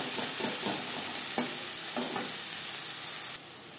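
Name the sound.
stirring salt into frying onion, tomato and spices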